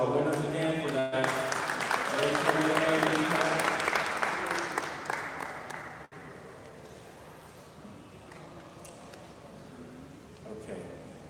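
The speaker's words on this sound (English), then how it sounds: "let's give them a round of applause for our winners again for that" An audience at a scholars networking forum applauds the winners, steady clapping that fades after about six seconds into a quieter room, with some speech mixed in.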